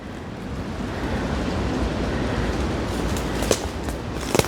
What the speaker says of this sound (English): We got a lot of rocks down lining the bottom of the creek.